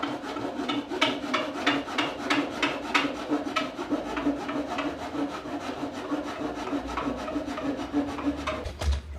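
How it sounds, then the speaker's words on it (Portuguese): A hand saw cuts through a wooden board to form the side of an oblong hole, steady rhythmic rasping strokes close up, about twenty back-and-forth passes without pause. "vou serrar o lado dela agora"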